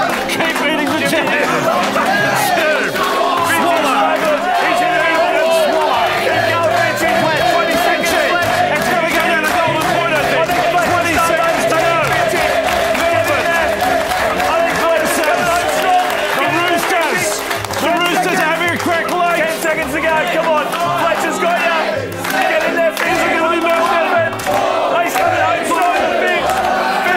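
Crowd cheering and shouting at a jelly eating contest, a continuous dense roar of excited voices with scattered clapping, loud and unbroken for nearly half a minute.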